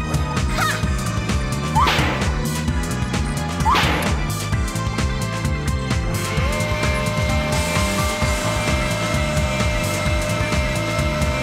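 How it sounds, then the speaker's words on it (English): Whacking hammer strikes and crashes from Amy's hammer attack in Sonic Adventure DX, two clear swings early on over loud, dense game music. "We got more hammers and a more satisfying sound."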